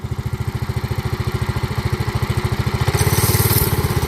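John Deere 110 lawn tractor repowered with a 212cc 7HP engine, running close and loud with a rapid regular chugging pulse that rises as the throttle is bumped partway through, no speech.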